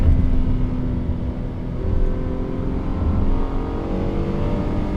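A 2018 Honda Odyssey minivan with a V6 VTEC engine revs hard on a paddle-shifted downshift in sport mode, a loud close engine roar that stays sustained for several seconds with no talk over it.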